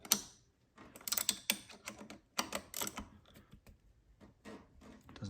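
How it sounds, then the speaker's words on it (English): Bolts on a dual caliper bracket of a KTM 50 stunt bike being tightened with a 14mm wrench, giving quick bursts of close metallic ratcheting clicks with short pauses between. "And it's time to tighten it up to 14mm."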